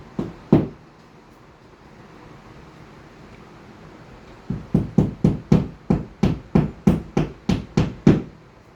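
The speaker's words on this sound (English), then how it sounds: "I use a little hammer or mallet and install my anchors." A small hammer or mallet drives wall anchors in during an LED uplight shelf installation, with one sharp knock followed after a pause by about a dozen quick, evenly spaced taps, close and fairly loud.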